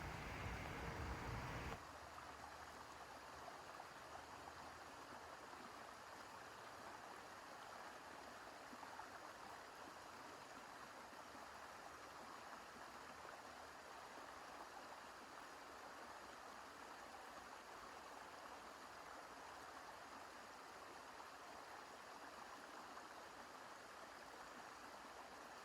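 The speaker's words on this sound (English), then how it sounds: "I'm gonna give a few breaths of silence, listening to the water" Stream water flowing steadily outdoors during a full moon yoga session, a soft continuous rush heard alone at low level for the whole stretch after a brief louder moment at the start.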